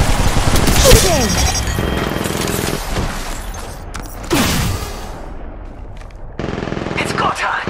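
Automatic gunfire in the video game Apex comes in loud, dense bursts, near and punchy, with short gaps and a quieter stretch between volleys.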